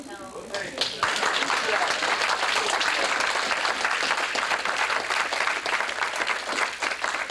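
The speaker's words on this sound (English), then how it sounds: "should give you a round of applause too for going through that wonderful hell." A round of applause from the audience at an SDS reunion gathering, swelling quickly after a brief moment and then holding as dense, steady clapping until the end.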